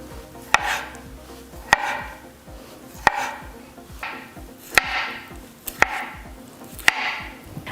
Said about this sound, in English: we're going to slice them into wedges